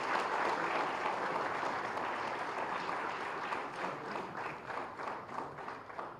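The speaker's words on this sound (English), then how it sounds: "Can we have a big, big round of applause" Audience at a medical conference valedictory session in Hyderabad breaks into sustained, dense applause for the chief guest, a steady wash of many hands clapping that thins slightly toward the end.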